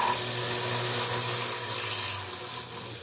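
A 0.17 inch drill bit runs at 2200 RPM with a 3.8 feed rate, cutting holes in a knife blade to be reamed to 3/16 inch; a steady whirring grind continues alone throughout.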